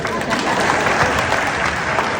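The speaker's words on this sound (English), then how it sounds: "You were supposed to clap at that juncture." Audience clapping at a speech launching a mental health campaign for teachers in Namibia, a short burst of steady crowd applause close by.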